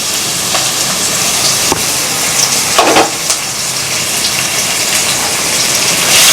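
Long sliced onions for a Chettinad crab gravy fry with fennel seeds in a hot pan, a steady loud sizzle with no break, crackling evenly throughout and rising slightly at the end.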